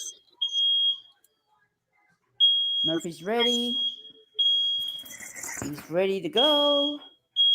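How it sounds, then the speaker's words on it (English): A smoke alarm shrills at 3 a.m. in a repeating series of loud, steady high-pitched beeps with short gaps. Speech talks over the later beeps. "Fire alarm going off at 3 o'clock in the morning"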